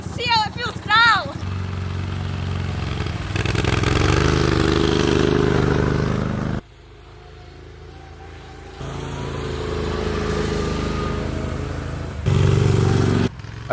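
An Argo amphibious off-road vehicle engine drones and revs while being driven, with the pitch rising and falling. It cuts out briefly partway through, and voices and some clatter are heard alongside.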